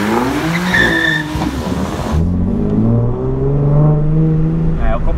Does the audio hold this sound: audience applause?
no